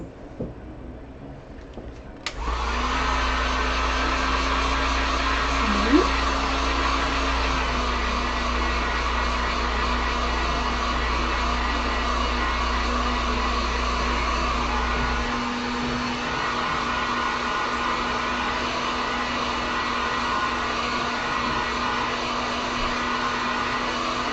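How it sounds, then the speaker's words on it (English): A heat gun blows steadily and loudly while drying acrylic paint on a wooden sign, a continuous whirring roar that holds for most of the stretch, its low hum dropping away partway through while the airflow carries on. "I'm going to hurry and hit this with the heat gun real quick."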